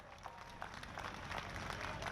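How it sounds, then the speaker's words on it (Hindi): Quiet, scattered clapping from a crowd welcoming Rajnath Singh at a public meeting in Jhunjhunu, Rajasthan, heard at a distance as a soft, continuous patter. "जोरदार तालियों से स्वागत।"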